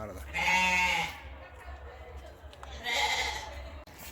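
Sheep on a farm bleat twice, loud close calls separated by a pause, over a low background rumble.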